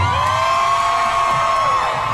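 A live comedy audience cheers and shouts in one loud, sustained wash of whoops and yells, unbroken for the full two seconds.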